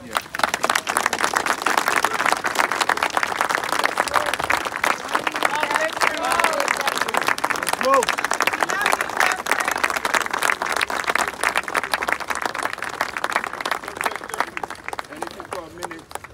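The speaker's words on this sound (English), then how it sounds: "A big clap for Jeffery, please." An audience claps steadily and densely for about sixteen seconds, loud and close throughout. A murmur of voices runs through the crowd as the clapping fades slightly toward the end.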